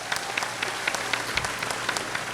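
Audience applause at a lively Indonesian stage event with a Muslim preacher and comedians: a steady wash of many hands clapping, fairly even throughout, with scattered sharper claps standing out near the front.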